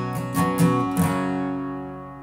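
Guitar strums the chord pattern for a song: three quick, bright strums in the first second, then a single chord rings out and slowly fades, close and clear with no voice.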